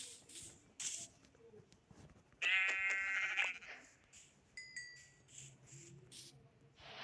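A single synthetic-sounding Minecraft sheep bleat rings out clearly over quiet ambient noise and scattered soft clicks and tones.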